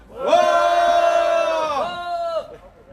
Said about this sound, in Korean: 모두 큰 함성과 함께 자리에서 일어나 주십시오